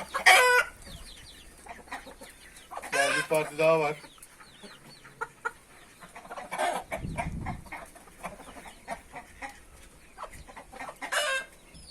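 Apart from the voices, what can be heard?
ispek breed chickens clucking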